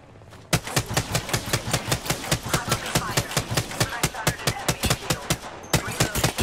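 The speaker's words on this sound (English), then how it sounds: "I'm giving you cover fire over here." Cover fire in the shooter Apex Legends, a steady burst of rapid automatic gunshots in an even, fast rhythm, loud and close, starting after a brief moment of quiet and running nearly unbroken to the end.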